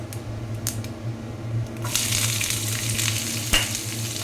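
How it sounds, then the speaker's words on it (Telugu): Cut onion pieces go into hot oil with mustard seeds and cumin. A quiet stretch with a few clicks gives way to a sudden loud, steady sizzle and crackle, close, with no voices. "ఇది వేగిన తర్వాత కట్ చేసి పెట్టుకున్న ఉల్లిపాయ ముక్కలు వేసుకోవాలి"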